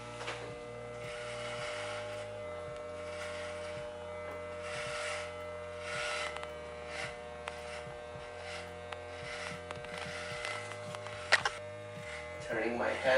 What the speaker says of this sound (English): keeping the clipper in the same position at all times